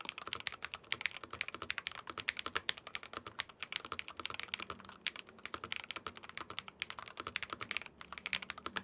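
Rapid typing on a magnetic gaming keyboard, dense clacky keystrokes in quick irregular bursts, close and clear with no talking.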